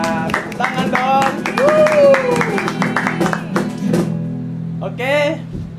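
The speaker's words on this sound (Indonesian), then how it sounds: "Tepuk tangan dong." A congregation at a GBI Duta Kerajaan youth worship service claps along in a steady rhythm, the claps mixed with singing voices and music throughout.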